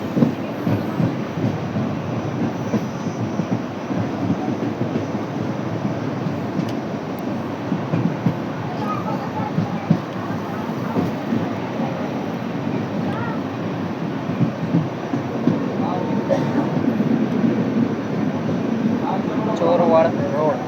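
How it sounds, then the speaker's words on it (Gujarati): Inside the Bandra–Veraval train 19203, hauled by a WDP4B diesel locomotive, the coaches rumble and rattle continuously at moderate speed near Chorvad Road station, with someone talking over the steady rolling noise. "બહુ સ્પીડમાં તો નથી ટ્રેન આપણી."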